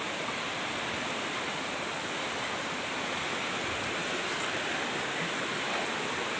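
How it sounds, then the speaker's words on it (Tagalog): A clear river flows with a steady, broadband rushing wash like a small waterfall or rapids, constant and fairly close, with no voices. "Ganda ng ilog, oh."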